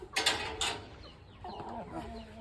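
A chicken clucks close by in a quiet domestic setting, a few soft, short clucks in a brief run after a couple of faint bumps at the start.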